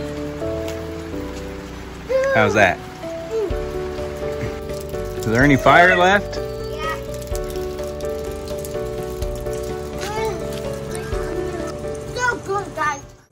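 Continuous rain patters outdoors at a weekend getaway, a steady hiss running under music and children's voices as people talk over it.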